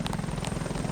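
Helicopter flying in the Roblox game PTFS, a steady rapid rotor chop with a continuous engine drone, close and fairly loud, heard alone with no talking.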